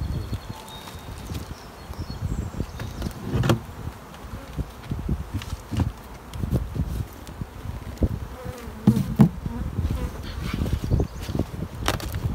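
Honeybees buzzing around an open hive during a hive inspection, a continuous close drone with scattered thumps and handling knocks.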